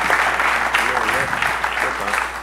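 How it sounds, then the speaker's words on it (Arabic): Audience applause for Karina and the Riyadh dance troupe on a Tunisian variety show stage, steady dense clapping throughout, loud and close with crowd noise. "اعطيوني تصفيقة اقوى على كارينا وفرقة الرياض"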